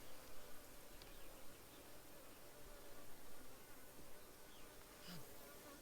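Honeybees buzzing inside a double deep brood box hive, a dense, continuous drone close by with a few individual bees passing nearer.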